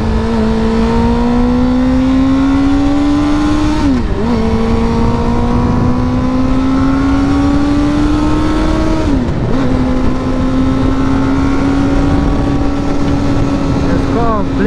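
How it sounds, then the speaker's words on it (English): A motorcycle engine revs loud and close throughout, its pitch climbing steadily, then dropping sharply twice as gears change. Steady wind or road noise runs underneath. "Flipping the throttle or revving the bike, whatever you want to call it, popping the gas"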